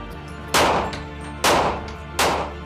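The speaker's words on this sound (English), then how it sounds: "we'll be going back to the Vector to see if we can get a vest that can stop a submachine gun" A Vector submachine gun fires three loud, close single shots into a bulletproof vest sample, each a sharp blast with a short decaying tail and roughly regular gaps between them.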